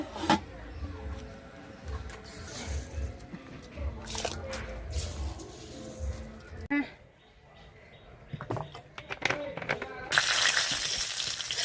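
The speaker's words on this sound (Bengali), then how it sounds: "পাঁচফোড়নটা শুকনো লঙ্কাটা ভেজে নিয়েছি, এখন দিয়ে দিয়েছি রসুন" Garlic frying in oil with panch phoron and dried red chilies, a soft sizzle broken by stirring clatters and a louder burst of hiss near the end, under occasional talk.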